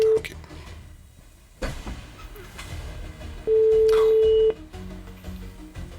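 During a live call-in prize draw on a Polynesian radio broadcast, a brief tone sounds at the start, then a steady telephone ring tone lasts about a second amid low background noise and studio murmur.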